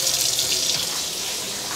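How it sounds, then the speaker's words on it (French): Hot water gushes from a kitchen tap in a steady, loud, close rush that carries on without a break, with no voices over it. "Donc là, on va mettre de l'eau chaude."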